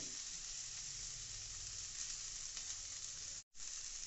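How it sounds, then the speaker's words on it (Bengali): Long beans, carrots and potatoes fry in oil with chopped ginger, green chilli and bay leaf for a vegetable pulao, giving a dense, even sizzle close by that cuts out for a split second near the end, with no voices. "বরবটি গাজর আলু দিয়ে মোটামুটি ভালো করে ভেজে নিচ্ছি"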